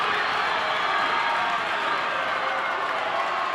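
A loud, dense roar of cheering and clapping rises from a high school basketball crowd after a scoring play in a charity showcase game, steady and close throughout.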